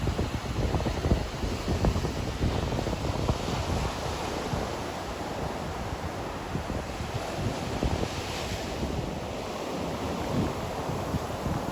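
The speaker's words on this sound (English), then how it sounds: "listen to the crash of the surf" Ocean surf crashes steadily onto a sandy beach along the wild Olympic Coast, a continuous loud roar of breaking waves with gusty wind noise across the microphone and no voices.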